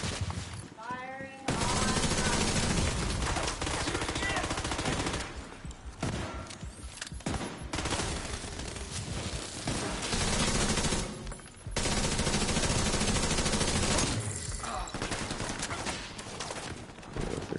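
Heavy automatic gunfire in The Division 2 on PS5: dense, loud, sustained bursts of shooting with brief pauses between volleys, filling the scene almost continuously.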